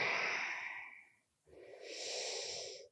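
Two slow, close breaths during a yoga pose, a long airy exhale followed after a short pause by a deep inhale, soft and unaccompanied by talk.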